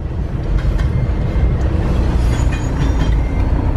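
Loud, continuous low rumble of a train rolling past in a video game, heavy and close, with faint clatter over the top.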